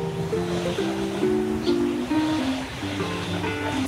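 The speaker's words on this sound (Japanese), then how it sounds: "ほらほらほら、結構波来るよね" Ocean waves washing onto a narrow Hawaii beach, a continuous rushing surf wash heard fairly close, with steady breaking and receding water throughout.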